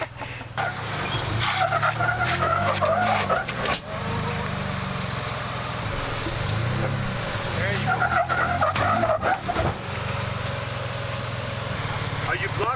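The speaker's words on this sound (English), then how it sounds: "Utilizing both his front and rear locker, he was able to get up the lip just fine." 4x4 off-road vehicle with front and rear lockers climbing a rocky ledge in Utah: a loud engine revving and straining in surges, heard close, with people talking over it.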